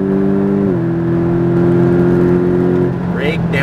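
A Porsche 718 Cayman GTS accelerates on a race track with a loud, steady engine drone whose pitch dips slightly early on and then holds. A short burst of whooshing noise follows near the end.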